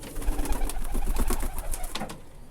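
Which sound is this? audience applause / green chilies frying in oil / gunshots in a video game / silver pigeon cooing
silver pigeon cooing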